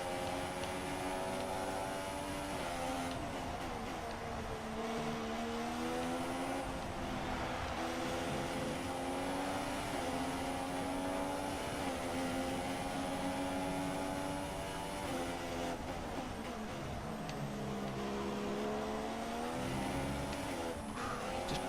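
F1 2016 Formula One race car at the Australian Grand Prix, its high-pitched engine screaming steadily and close as it accelerates through the gears, with the harmonic whine rising and dipping throughout.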